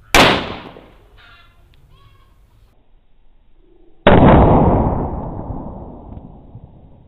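Small Diwali firecrackers exploding, two sharp loud bangs several seconds apart, each followed by a long fading rumbling echo outdoors, with faint crackling in between.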